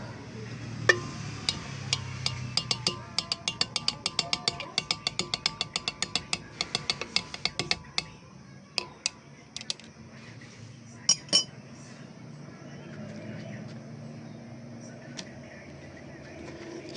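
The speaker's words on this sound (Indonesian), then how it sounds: "kita aduk" A metal or glass rod stirs a gold precipitation solution made with zinc dust, giving a quick run of sharp ticking clinks against the container that stops partway, followed by a few scattered taps and quiet.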